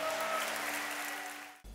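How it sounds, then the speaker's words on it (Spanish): Church congregation applause during a Spanish-language sermon, a short burst of dense clapping with a faint tonal hum underneath, fading slightly before cutting off. "Dale un aplauso fuerte al Señor."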